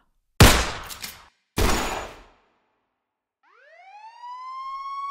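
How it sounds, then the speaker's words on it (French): A couple of sharp bangs are followed by a police siren rising and starting to wail, loud and close. "Alors que les sirènes hurlantes de police se faisaient entendre"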